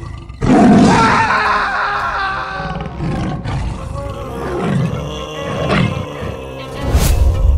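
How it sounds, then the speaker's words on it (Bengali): A white tiger in a Bangla cartoon set in the Sundarbans lets out a loud, sustained roar with growling grunts that rise and fall, ending in a final burst, with no talk over it. "বরেন্দা পালাও, এটা কোনো গরু নয়, এটা সাদা বাঘ।"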